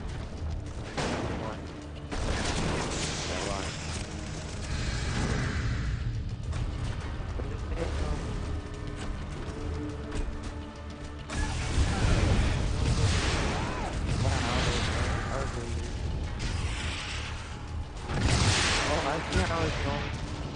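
Buildings collapsing in the Red Faction Guerrilla siege multiplayer mode: heavy rumbling crashes, explosions and debris roar swelling in waves over about twenty seconds, with gunfire-like bursts and people talking throughout.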